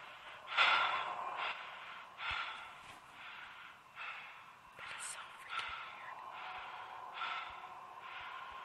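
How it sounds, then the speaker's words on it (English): Heavy, snorting breaths from a creature in a horror video game, repeated in uneven bursts over several seconds at moderate loudness, with faint game ambience around them. "Who is breathing?"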